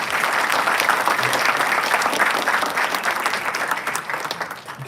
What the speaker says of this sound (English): Let us give her a huge round of applause.